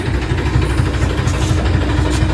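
A farm tractor engine idling close by, a loud, steady low rumble with a continuous throbbing vibration and no break throughout.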